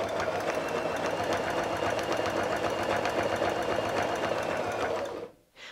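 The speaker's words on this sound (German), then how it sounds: "wir nähen einmal um die Flosse herum, damit auch die richtig stabil bleibt" A sewing machine stitches steadily around the fin of a quilt appliqué, a close, fast, even mechanical whir that runs unbroken for about five seconds before cutting off abruptly.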